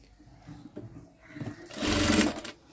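Sewing machine running while stitching a churidar pant, a brief low rattle at first, then a loud steady whirring burst of stitching that stops near the end.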